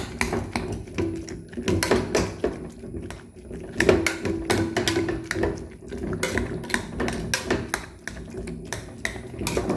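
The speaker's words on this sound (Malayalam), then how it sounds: "ഇനി ഇത് നമ്മൾ കൂട്ടാനൊന്ന് കൊത്തിയെടുക്കുക" Boiled kara moosa vegetable is chopped with a knife on a board, producing a quick, irregular run of close, sharp taps and knocks that continues without a break.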